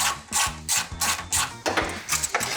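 Ratchet on a 10 mm socket loosening fender bolts on an old Ford F-150 pickup: quick rhythmic clicking strokes repeated several times, close and crisp.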